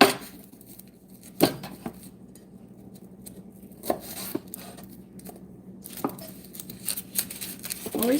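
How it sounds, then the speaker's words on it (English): Knife mincing food on a wooden cutting board while stuffed peppers with mushroom and rice are made; a few sharp, scattered chops sound close up over a quiet room, with no steady rhythm. "We've got a lot of mincing."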